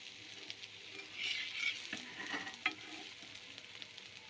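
A tiffin snack fries in a pan over a medium gas flame, giving a soft, steady sizzle with light stirring and scraping and one sharp tap near the end; it is quiet and close, with no voices.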